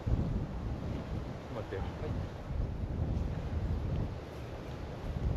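Strong wind gusting across open water on a boat, a heavy rumbling roar buffeting the microphone throughout, with a voice speaking briefly.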